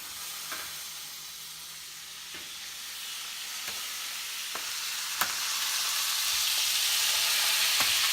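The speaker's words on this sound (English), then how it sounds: "we'll put our tenderloins in the pot" Tenderloin steaks searing in a hot pot with butter, giving a steady loud sizzle and hiss that rises slightly over time, broken by a few sharp pops and crackles.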